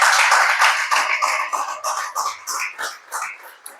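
A church congregation bursts into dense, loud applause that fills the space, then gradually thins into scattered, fading claps over a few seconds.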